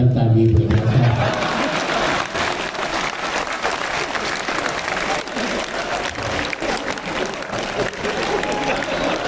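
An audience at a Hindi comedy poetry show applauds loudly and continuously, with a dense wash of clapping and crowd noise throughout.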